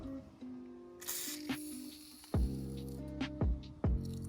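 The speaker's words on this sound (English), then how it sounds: "So we're gonna spray some WD-40, some PB Blaster in here and try to free this up." WD-40 and PB Blaster sprayed into the stuck rear tailgate latch of a 2001 Dodge Dakota, heard as short hissing bursts over a low hum, with clunks and rattles of the latch mechanism in between.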